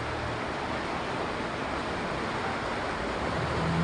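Knee-deep floodwater surrounds a house during a flood, producing a steady broadband wash of moving water with a rushing, surf-like texture that stays constant and fairly loud throughout, with no voices.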